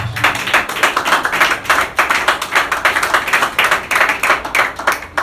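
A church congregation claps in a fast, steady rhythm, a dense run of close, loud handclaps continuing throughout with no talk.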